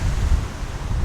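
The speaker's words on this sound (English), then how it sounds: "and it's really windy" Strong wind and ocean surf at a beach by the Westin Lagunamar, a loud, rumbling wash of breaking waves and gusting microphone noise heard alone.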